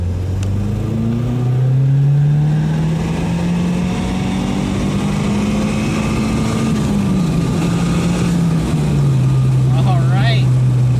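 A Mazdaspeed 3 accelerates hard in third gear on a flat road, its engine note rising steadily and droning loud and close for several seconds before easing slightly near the end.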